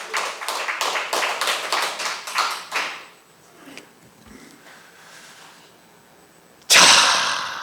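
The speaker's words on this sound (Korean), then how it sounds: "박수 한번 쳐드려요." Church congregation clapping in a run of sharp, closely spaced claps that fade after a few seconds, followed by a quiet stretch and a sudden loud burst of noise near the end.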